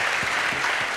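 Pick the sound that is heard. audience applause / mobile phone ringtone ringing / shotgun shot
audience applause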